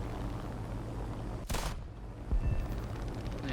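An aircraft cannon fires in a combat flight video game with a short, sharp burst, then a second, lower rumbling burst, over steady engine drone.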